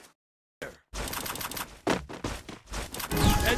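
Gunfire in the Free Fire video game during a sniper-rifle fight, a rapid burst of shots after a short silence, dense and loud, with further volleys close by.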